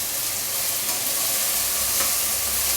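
Brinjal and drumstick vegetables for sambar sautéing in a pan, giving a steady, close sizzle and crackle of frying throughout with no voices.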